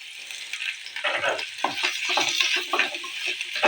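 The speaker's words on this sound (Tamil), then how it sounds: "தேங்காய் வந்து லைட்டாக வதங்கினா போதுங்க" About a cup of coconut sautéing with softened onions in a pan for a curry: a close, continuous sizzle broken by scraping stirs, no voices.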